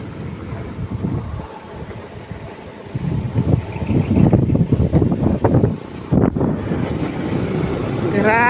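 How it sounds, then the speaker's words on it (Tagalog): A cold breeze blows outdoors and buffets the microphone, a continuous rough rumble of wind that grows louder and gustier partway through. "Ang lamig ng simoy ng hangin."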